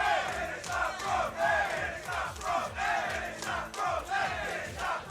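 An esports tournament crowd at a Super Smash Bros. event roars and cheers in loud, surging waves, with shouts rising repeatedly over a dense, continuous wall of voices.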